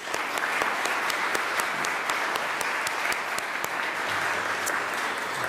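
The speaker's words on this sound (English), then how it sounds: "let's have another round of applause for our program speakers" An audience at an annual business meeting applauds its program speakers, a steady dense round of clapping that holds at even loudness throughout, with no talk over it.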